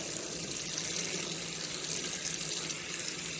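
Slightly warm tap water runs steadily from a faucet into a sink to soak a comic book, a constant close hiss with no voices.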